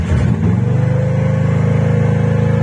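A homemade T500 loader's engine idles steadily at medium revs, a close, loud, even throbbing pulse with no talk over it.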